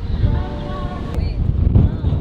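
Strong wind buffets the microphone aboard a yacht in stormy weather, a loud steady low roar with gusts that swell and fall, mixed with faint water noise.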